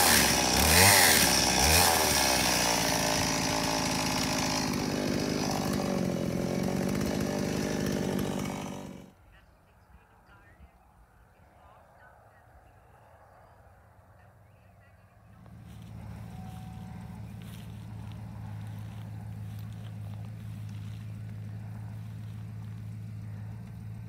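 A vehicle engine revs loudly while pushing a chicken coop, then cuts to near quiet before a lower, steadier engine drone resumes, with people talking over it.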